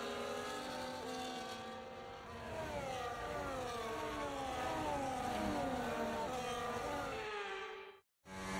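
F1 cars from the game F1 24 drone through a formation lap in Miami, engines held loud and steady with shifting, overlapping pitches, several cars close by, cutting off abruptly near the end.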